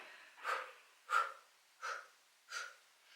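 Four distinct, evenly spaced breathy exhalations during a gentle gym exercise class, each a soft close puff of air separated by short quiet gaps, with no talking.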